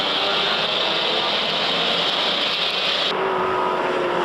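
Onboard roar of a 1979 touring car racing through the opening corner and up toward Mountain Straight at Mount Panorama, Bathurst: a loud, continuous engine drone with a shift in tone partway through.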